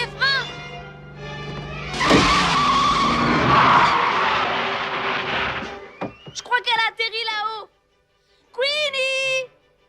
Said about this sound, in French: Lombec, les freins.